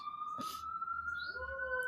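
An emergency vehicle siren's steady wailing tone holds through the clip as it passes, moderately distant, with a brief burst of noise near the start.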